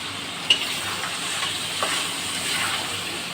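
Washed chicken gizzards, wings and skin fry in a pan with a low, steady sizzle and hiss, broken by a sharp pop near the start and a softer crackle later.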